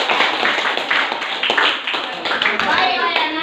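A classroom of students claps for a group that has just presented, giving quick, uneven bursts of hand clapping close by while young voices chatter underneath.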